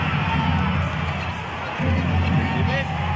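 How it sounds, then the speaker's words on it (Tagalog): Loud roaring crowd at a PBA basketball finals Game 7 between TNT Tropang Giga and Barangay Ginebra, a sustained wall of cheering that swells again partway through, with a commentator talking over it. "Grabe po ang hiyawan po dito."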